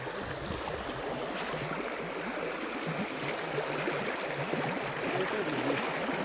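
A large stream of water flows in a continuous broadband rush, steady and moderately loud with no pauses.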